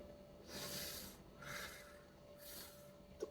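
Breathing through the mouth with teeth clenched, three slow hissing breaths drawn and pushed through closed teeth, close and soft.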